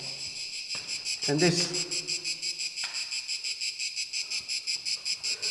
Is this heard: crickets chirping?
yes